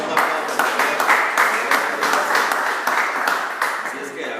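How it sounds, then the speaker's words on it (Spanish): A church congregation applauding in rhythmic bursts of clapping that rise and fall, fairly close and lively, with some voices mixed in. "¿Cuántos damos un aplauso?"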